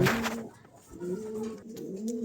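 A pair of fantail pigeons coo, a few soft, low, rolling calls in quick succession, close by and clear with no talking.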